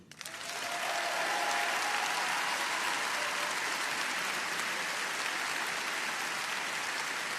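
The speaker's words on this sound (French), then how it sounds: "Je veux que nous vous applaudissions." A large crowd at a French political rally breaks into applause that swells within the first second, then holds as dense, sustained clapping without a break.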